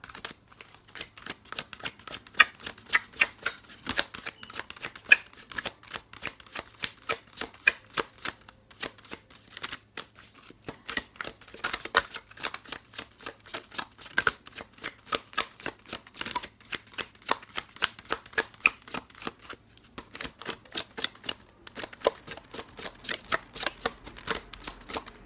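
An oracle card deck is shuffled by hand in a close, continuous run of crisp rapid card riffles and snaps, with short flurries and brief pauses between them, and no voice.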